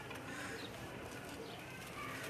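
A Faqir Gul pigeon coos softly at a pigeon club in Gujranwala, the low calls fairly faint against a constant background hiss.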